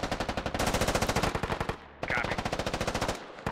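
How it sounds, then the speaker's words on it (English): U.S. forces lay down covering fire in the military shooter game Squad, with rapid, loud bursts of automatic gunfire hammering out in a fast, even rhythm, cut off briefly by a short pause before firing resumes. "We're seeing some covering fire here. U.S. forces providing covering fire."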